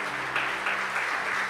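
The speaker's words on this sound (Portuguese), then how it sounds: "aplaude ao Senhor" A church congregation applauds during a sermon, steady fairly soft clapping from a crowd with a few slightly louder claps rising above it.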